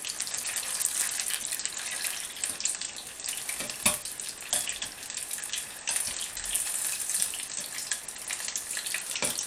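Onions, sliced pepper and chicken in batter deep frying in hot oil, a steady close bubbling sizzle with faint crackles throughout, no voices.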